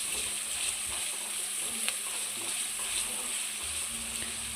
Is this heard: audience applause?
no